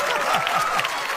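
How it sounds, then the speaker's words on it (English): Audience applause at a Dave Chappelle comedy show as a gentleman is introduced: dense, steady clapping from a large crowd, held at an even level for a brief moment. "please give this next gentleman a warm round of applause"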